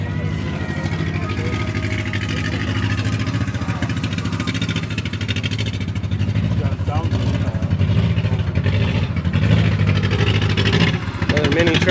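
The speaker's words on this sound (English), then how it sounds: "Another mini truck pulling up." A mini truck engine pulls up at a mini truck show, a steady loud motor drone with revving swells running continuously under ambient crowd noise and some talk.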